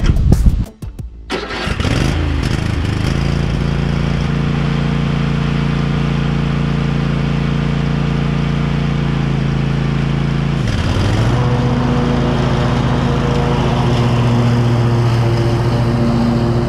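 A Cub Cadet XT1 ST54 riding mower's engine cranks briefly and catches, then settles into a loud, steady close-up idle hum, with a shift in pitch near the end as it revs up.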